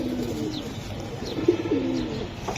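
A giribaj pigeon coos in soft, repeated throaty calls close by, with faint chirps in the background.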